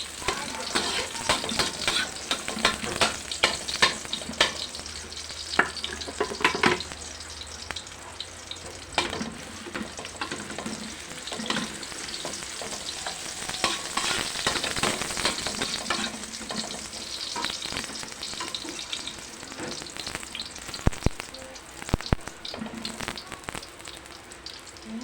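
Garlic frying in a little oil for chicken liver with broccoli, a dense crackling sizzle like rain on a surface, close and steady for a long stretch, with occasional spatula scrapes and no talking.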